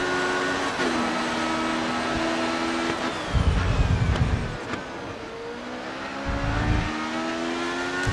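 A racing car in Grid Autosport accelerates hard out of corners, its steady engine drone climbing in pitch through gear changes, with brief dips between bursts and rising whines, loud and continuous throughout.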